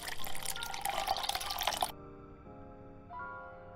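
Pouring-drink sound effect for a stream follow alert: liquid splashes and gurgles into a glass for about two seconds, then stops abruptly and gives way to soft sustained chime tones.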